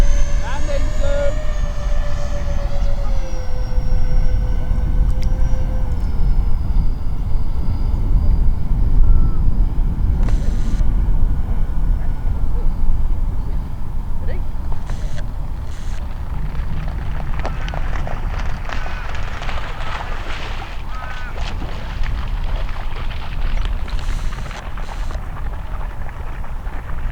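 A 3D-printed RC Martin P6M SeaMaster EDF model plane whines in on approach to land on its maiden flight, the ducted-fan tone descending and fading into rough outdoor rumble and wind noise, with voices talking nearby.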